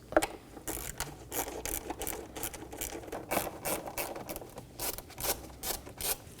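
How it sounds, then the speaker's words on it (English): Ratchet wrench with an 8mm socket loosening hose clamps on the airbox of a 2011 Dodge Durango 5.7L V8, a rapid series of close, crisp clicks repeating in uneven bursts throughout. "I'm going to undo this clamp, and same with this one here. I'll be using a 8mm socket."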